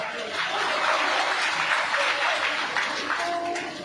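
Audience applause at a Papu Pom Pom stage show in Baripada, a dense, steady wash of clapping from a crowd that holds throughout and tapers slightly at the end, with a voice faintly mixed in.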